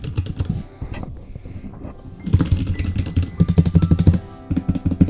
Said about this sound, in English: I'm gonna pull out a keyboard so we can see the sound